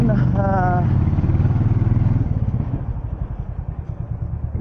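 A Royal Enfield Meteor 350 motorcycle riding on a highway, its engine a steady low thumping drone that grows rougher and more pulsing toward the end, close and loud under wind.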